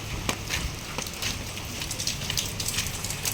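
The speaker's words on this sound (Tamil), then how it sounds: "மழை பயங்கரமாக பெஞ்சுன்னு இருக்குது காலிலேருந்து" Heavy rain pours down in a steady, dense hiss, with sharper drops and patters ticking through it. No one speaks.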